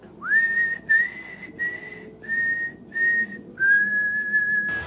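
A person whistles the Canadian national anthem alone, clear sustained notes in short phrases with brief breaths between them.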